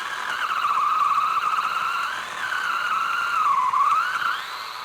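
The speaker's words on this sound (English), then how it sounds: "Cut a notch on one side, and then the actual slit on the other." A saw cuts a notch and slit in a persimmon or elderberry branch during spring pruning, giving a loud, steady whining drone that rises and dips in pitch as the cut proceeds, with no talk.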